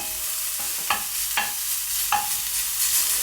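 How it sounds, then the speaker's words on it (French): Kebab meat frying in a pan under a steady hiss, with a few sharp scraping strokes from a wooden spoon as it is stirred, close up. "Et là, je mélange avec ma cuillère en bois"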